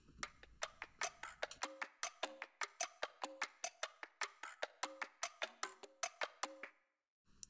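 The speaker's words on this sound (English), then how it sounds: "there's also a bachata loop that is very Spanish inspired" A brisk Latin percussion loop of crisp scraped and tapped hits in a repeating syncopated pattern, close and dry, cutting off just before the end.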